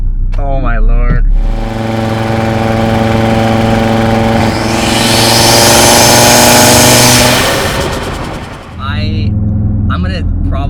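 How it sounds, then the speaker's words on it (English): Stage 2 Audi RS3 making about 599 horsepower, running a stock catback exhaust with downpipe and mid pipes: a loud, close engine drone rising in pitch and swelling, then easing off, with voices talking at the start and end. "even just hearing this exhaust, and this is a stock catback"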